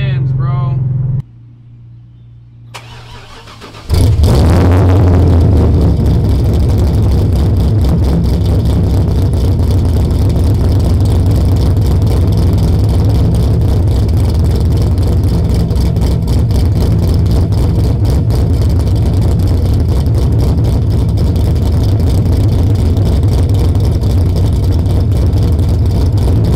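A Chevrolet C6 Corvette engine starts after a quiet stretch and settles into a loud, continuous deep rumble, held steady and close for the rest of the time.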